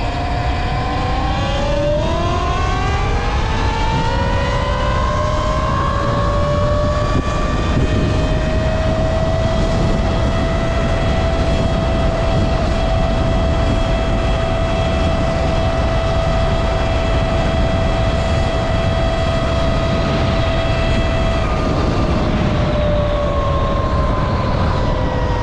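A Talaria MX5 electric motorbike runs in Hyper top speed mode: a loud motor whine climbs in pitch, then holds steady at speed over constant roaring wind, with no talking.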